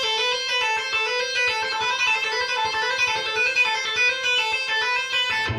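Electric guitar repeating a quick six-note melodic pattern, bright sustained notes played steadily and evenly, close and alone with no talking.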